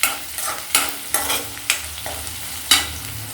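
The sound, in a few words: avarekalu (field beans) frying and being stirred in a pan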